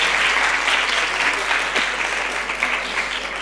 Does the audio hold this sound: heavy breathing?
no